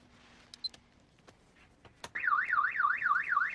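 An electronic alarm suddenly starts wailing, a loud warbling siren that rises and falls rapidly and keeps going after a few faint clicks and taps.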